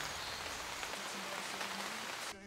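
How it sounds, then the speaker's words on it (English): A raindrops sound effect, dense and crackling like sizzling meat, a loud, even hiss of patter that holds steady and then cuts off abruptly near the end. "found raindrops, which sounds very similar to sizzling meat"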